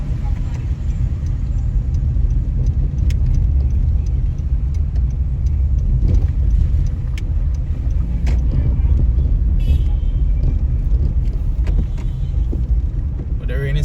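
Road traffic at a crossroads in Jamaica after Hurricane Ian: a steady, loud low rumble of car engines and tyres runs unbroken throughout, with small bumps and clatters over it.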